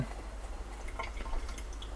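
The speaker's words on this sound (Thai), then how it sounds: "ให้คุณกรอกน้ำตรงนี้ให้เต็มเต็มเต็มเลยนะครับ" Water trickles and drips as it fills a Simplus AJ water filter head, a close, light gurgling with small irregular splashes throughout.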